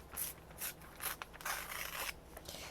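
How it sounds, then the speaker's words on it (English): A page being torn out of a book, several quiet papery rips and rustles in short bursts, close and without talk. "Let's just take one of these pages and we're going to tear it out."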